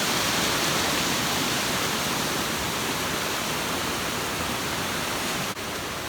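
Steady rushing water roars close by, a dense unbroken hiss of fast-flowing Conference Creek heard from a bridge, with no voices.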